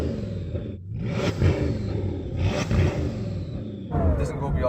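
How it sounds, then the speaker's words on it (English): Bugatti Chiron engine revving in sports mode, a steady loud rumbling drone with several swelling pushes under people talking nearby. "Go on, rev it then. Let's hear the revs."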